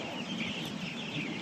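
A crowd of broiler chickens in a farm shed on a hot day fills the air with steady, dense clucking and chatter, moderately distant and continuous.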